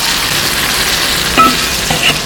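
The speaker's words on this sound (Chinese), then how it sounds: "这个鱼啊，我们全部放下去" Crucian carp with chopped chili stir-fries in a hot wok with a loud, continuous sizzle and hiss, broken by brief scraping stirs near the end.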